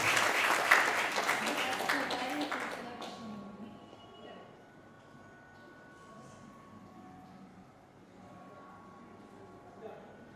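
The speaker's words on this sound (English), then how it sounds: "Big round of applause" Audience applause for a singer at a concert event, a burst of dense clapping for about three seconds that stops abruptly, followed by quiet room tone with faint talking.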